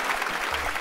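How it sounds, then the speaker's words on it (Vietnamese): A brief, dense burst of hand clapping from a small group, close and fairly quiet, lasting under a second with no voices over it. "Vỗ tay."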